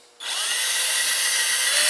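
A power drill whirs up after a short quiet start and keeps running steadily at a high, constant pitch, loud and close, hand-drilling holes while fitting Harbor Freight Apache cases to Givi Easylock racks on a Yamaha FJ-09 motorcycle.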